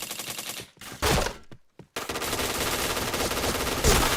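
Rapid automatic gunfire rattles in a shooting video game, loud dense bursts broken by two brief silent gaps, then a sustained stream to the end.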